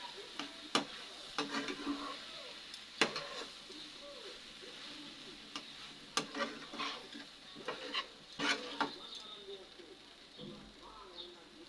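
Chicken roll filling being stirred in a pan, with a spatula clattering and scraping in sharp intermittent strokes over a faint steady sizzle, close by and fairly quiet.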